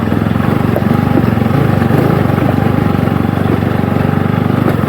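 Motorcycle engine droning steadily and loudly while riding on a road, a close, even buzzing hum with rapid pulsing and no pauses.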